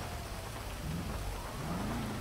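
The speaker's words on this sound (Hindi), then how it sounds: "अरे बारिश होने लग गई भाई" Steady rain with rolling thunder in the video game GTA V, a dense continuous hiss of falling water with low rumbles, fairly soft and with no voices.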